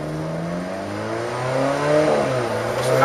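Turbocharged 1750 cc engine of an Alfa Romeo 4C with a dual-clutch TCT gearbox pulling away in first gear, a steady mid-pitched growl rising smoothly in pitch and loudness, heard close with no talking.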